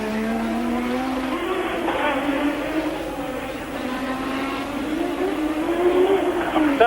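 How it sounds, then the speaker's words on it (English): Formula 1 race cars at the 1986 Monaco Grand Prix, with a steady high engine whine rising and falling throughout and no break. "So anyway, there is the race leader, Alain Prost. Down to the Rascasse again"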